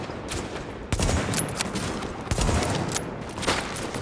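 Bursts of enemy gunfire from a third-person shooter set in The Division, repeated volleys with sharp cracks at steady intervals over a dense, loud battle backdrop.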